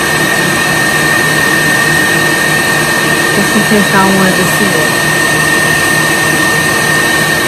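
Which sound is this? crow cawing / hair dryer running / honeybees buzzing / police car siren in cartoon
hair dryer running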